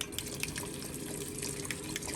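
Water runs steadily from a kitchen tap, a continuous close hiss and splash for a couple of seconds with no talking.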